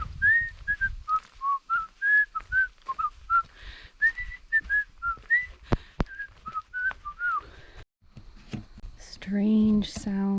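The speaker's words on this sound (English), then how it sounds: "I start whistling the tune to the Andy Griffith Show." A lone person whistles the Andy Griffith Show tune outdoors in Frontenac Provincial Park, a bright, clear, close melody of short phrases, followed by a brief different voiced sound at the end.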